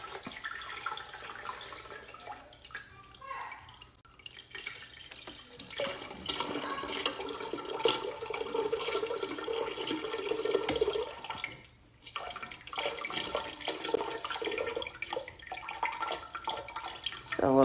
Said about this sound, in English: I am going to put it about halfway full of water.